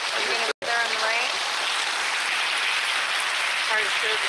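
Heavy rain pours down during a severe thunderstorm among trees. A dense, steady roar of rainfall fills the scene almost without pause, with faint traces of a voice beneath it.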